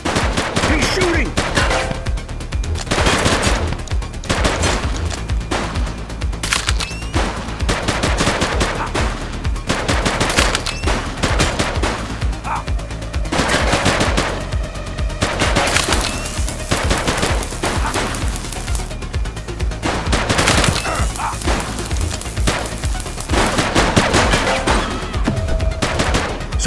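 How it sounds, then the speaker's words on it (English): Sustained loud gunfire in The Precinct, a police video game: dense automatic bursts and rapid shots nearly continuous over a steady game soundscape. "He's shooting!"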